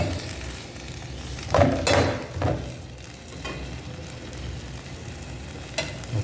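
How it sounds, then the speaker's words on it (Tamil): Mint chutney ingredients sauté in a pan with a soft, steady sizzle, broken by a few louder stirring scrapes and clatters as they are moved around. "கண்டினியூவாக லைட்டாக வதங்கட்டும்"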